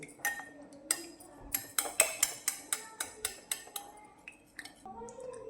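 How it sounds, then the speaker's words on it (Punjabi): Yogurt whisked with a spoon in a bowl for makhana raita, a quick, steady run of light metallic clicks close by. "ਹੁਣ ਦਹੀਂ ਨੂੰ ਆਪਾਂ ਚੰਗੀ ਤਰ੍ਹਾਂ ਫੈਂਟਣਾ ਹੈ"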